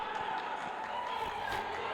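A futsal match crowd in an indoor venue cheers and shouts in a steady, fairly distant roar, with commentary running over it.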